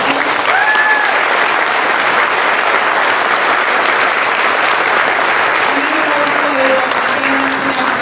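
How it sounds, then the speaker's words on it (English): Sustained, dense audience applause fills a choral concert hall for the full stretch, steady and loud, with a few faint voices and calls surfacing briefly near the end. "So a round of applause for them."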